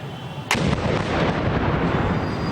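A loud explosion blast goes off at a protest sit-in site. It is one sharp, close bang, followed by a dense, rumbling roar that lingers.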